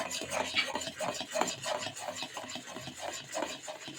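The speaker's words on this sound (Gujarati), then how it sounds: "હવે હું એમાં તલ એડ કરું છું" Sesame seeds being stirred into a hot syrup of jaggery and ghee for chikki, giving a steady run of scraping, clinking stirs of spoon against pan, fairly close and continuous, with no talking.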